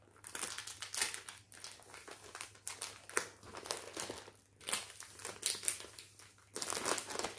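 A plastic sachet crinkles as a diamond painting canvas is slid back inside, giving close, irregular rustling bursts with brief pauses, and no voices.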